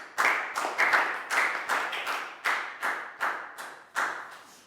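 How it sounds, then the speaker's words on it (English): A classroom of Year 4 students claps in a quick, uneven burst of sharp, close handclaps, roughly a dozen strong strikes spread over several seconds with no talking. "a big round of applause for Prel"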